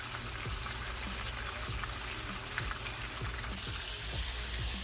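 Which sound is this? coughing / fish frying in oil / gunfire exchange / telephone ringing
fish frying in oil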